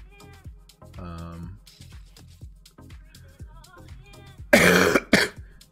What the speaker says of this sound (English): Really apologize for the cough if it comes in.